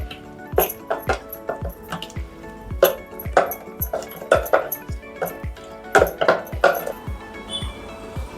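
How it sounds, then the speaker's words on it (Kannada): A spoon mixes cumin powder, turmeric and salt in a bowl, giving a steady series of close clinks and scrapes against the bowl's side. "ಜೀರಾ ಪೌಡ್ರು ಹಾಕ್ತಾ ಇದ್ದೀನಿ, ಹಾಗೆ ಅರಿಶಿನ ಮತ್ತು ಉಪ್ಪು ಎಲ್ಲ ಹಾಕಿ ಒಂದ್ಸಲ ಕಲಿಸ್ಕೊಂಡ್ಬಿಡ್ತೀನಿ ಹೀಗೆ ನೀಟಾಗಿ"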